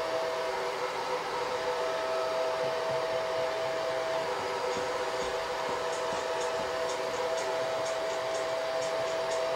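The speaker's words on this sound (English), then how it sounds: "Hit this with the hair dryer." A hair dryer blows steadily to dry chalk paste on a pumpkin cut-out, a constant close whooshing drone with a steady motor whine and no talk.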